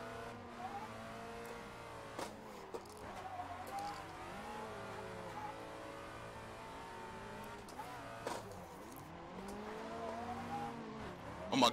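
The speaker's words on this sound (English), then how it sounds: "What that is the transmission with some straight cut gears." Car with a straight-cut gear transmission at a tandem drifting event, its high gear whine rising and falling in repeated sweeping revs, with tire squeal and engine roar from close by, faint voices in the background.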